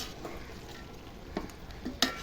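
Biryani masala, meat and potatoes stirred together in a pot make a soft continuous frying hiss, broken by a few scraping strokes and one sharp metal clink near the end.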